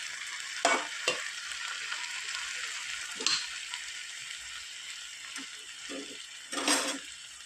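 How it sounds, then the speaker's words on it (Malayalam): Fried fish is stirred into sizzling masala for a Kerala-style fish roast: a steady frying hiss with repeated scraping and clanking strokes of a spoon against the pan, loudest near the end. "ഇനി ഇതൊന്ന് നന്നായിട്ടൊന്ന് ഇളക്കി യോജിപ്പിക്കാം"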